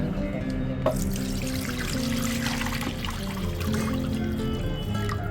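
Water pours and trickles steadily into an oiled kadhai for village-style jackfruit curry, a continuous close splashing flow with light gurgles and no talk.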